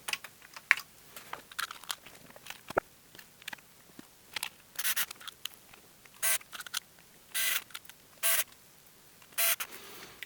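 Keyboard being refitted into an Oric Atmos computer during repair: scattered close plastic clicks and taps, with several louder bursts of rustling and scraping later on and no talk.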